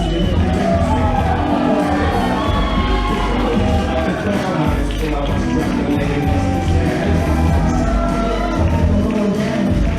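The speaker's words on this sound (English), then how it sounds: "The crowd does love them some Bobby Schink." A dense wrestling crowd at a WPW independent show cheers and shouts continuously for Bobby Schink, loud and close, with whoops and scattered voices.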